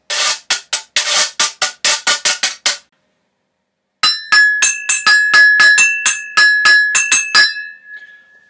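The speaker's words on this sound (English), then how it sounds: "The go-go bells." A pair of go-go bells is struck in a quick, steady rhythm that rings bright and metallic, close and loud, after a burst of scraping strokes and a short pause.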